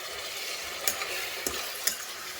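Blended tomato gravy made from four or five tomatoes, with ginger-garlic paste and green chilies, fries in oil over low flame, a steady sizzle punctuated by three scraping stirs of a spoon.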